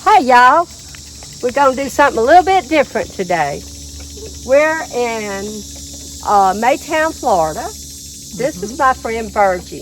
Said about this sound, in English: The loud noise you hear are frogs and crickets